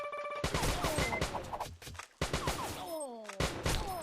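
Gunfire from the video game Major Mayhem, a burst of close, loud shots with thuds and crashes and a descending whistle-like tone, mixed with game effects and a brief gap of near silence midway.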